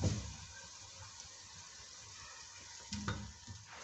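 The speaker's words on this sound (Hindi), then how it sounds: "चिकन ऐड करने के बाद इसको अच्छे से मिक्स कर लेंगे, साथ ही कटे हुए टमाटर ऐड कर देंगे।" Chicken and chopped tomatoes stirred together in a hot pan for choliya chicken, a soft continuous sizzle with faint scraping of a spoon and a brief louder stir near the end, quiet and close.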